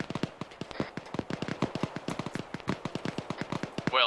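Rapid gunfire in the video game Arma rattles in quick, evenly spaced shots, a sustained automatic burst sounding close and sharp.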